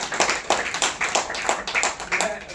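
At a national Hindi poetry gathering, the audience claps in a loose rhythm with sharp, evenly spaced bursts about three times a second. The sound is close, loud and steady throughout.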